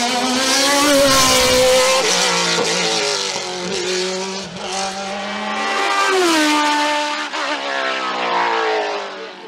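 A Nova Proto NP01 race car with a V8 engine screams past at a hillclimb, its loud, high-revving note climbing and dropping through gear changes over about ten seconds, with no talk.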